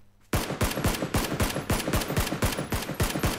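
Rapid automatic gunfire in the battle royale shooter PUBG, a fast even string of about fifteen sharp, loud shots in one sustained burst, close and alone with no talk.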